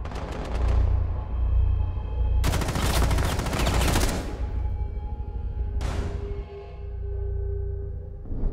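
Gunfire in Rainbow Six Siege, with several dense bursts of rapid automatic shots, loud and close, separated by brief ringing gaps and ending in a final sharp crack.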